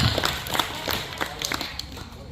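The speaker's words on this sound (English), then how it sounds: "Round of applause." Scattered applause from a museum audience after a fire-and-ethanol science demonstration, a loose patter of hand claps at moderate distance, thin and uneven, with a voice speaking over it.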